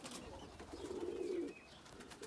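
A dove coos once in a low, soft, rolling call lasting about a second, close by in a pigeon loft, with faint background chatter of other birds.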